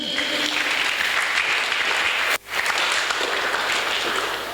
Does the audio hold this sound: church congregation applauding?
yes